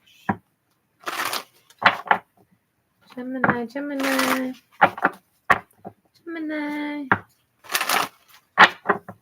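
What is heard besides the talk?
shuffling cards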